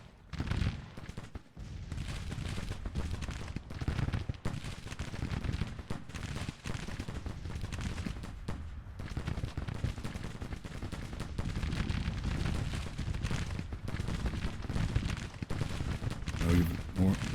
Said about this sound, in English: Back to fire, Will. You guys... Why are you boys not firing